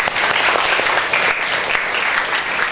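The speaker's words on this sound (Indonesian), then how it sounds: "aplaus untuk kita semua" Applause from a classroom of students, dense steady clapping close by for the whole stretch with no talk over it.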